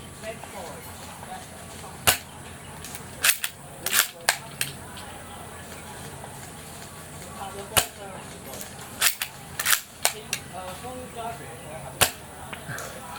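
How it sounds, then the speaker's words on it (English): An RWA/Viva Arms airsoft Lee Enfield No.4 rifle firing, a series of sharp, spaced snapping shots with a mechanical click between some of them, close and loud over quiet background. "The gun shoots straight and has nominal accuracy."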